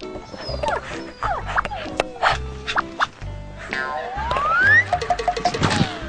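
A dog barks and yips in short, loud, close bursts, mixed with boing-like cartoon sound effects and voices.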